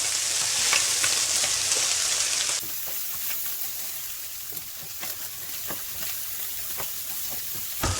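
Vegetables fry in a hot pan while being stirred and mixed, a steady loud sizzle that shifts in tone partway through, broken by scraping and clattering stir strokes close by.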